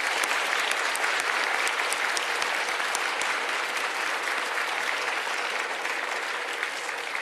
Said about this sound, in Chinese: 今天我要借用各位的双手，再一次给我们所有辛苦的医护人员最大的掌声。